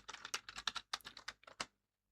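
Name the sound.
typing on a computer keyboard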